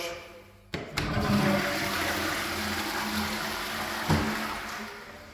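A house toilet flushes with a sudden rush of water that roars steadily and close for several seconds, then swells briefly again near the end, with no talking.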